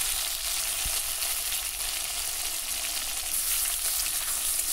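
Chopped onion and tomato frying in very hot mustard oil give a continuous, even hiss of sizzling, fairly loud and close, with no talking.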